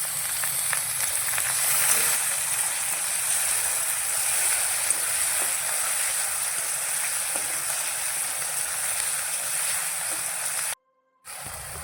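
Tomatoes tossed into a hot pan with cabbage for a homemade Gujarati-style pasta sauce give a steady, close, continuous sizzle and hiss, with a brief dropout near the end.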